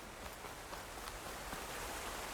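Steady rain in the video game Horizon Forbidden West, a dense continuous hiss of drops pattering on surfaces, even and fairly loud throughout, with no talking.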